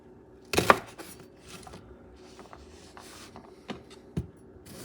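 A knife cutting celery, onion and carrots on a board, one loud sharp chop followed by scattered softer cuts and knocks, close by and sparse, with no speech.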